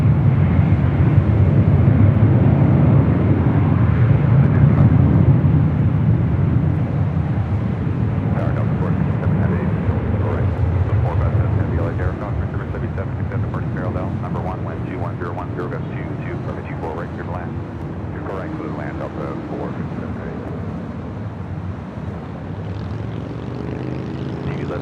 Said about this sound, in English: Also have United Airlines flight 38 coming in from Tokyo Haneda in a 787-10 Dreamliner heading to the north side.